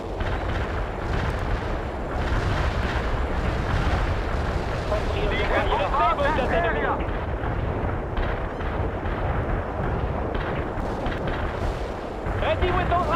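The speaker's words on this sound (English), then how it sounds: "Artillery firing for attack" Artillery fire in World in Conflict, a continuous rumbling barrage of booms and blasts with scattered gunfire, steady and loud, with voices and radio chatter mixed underneath.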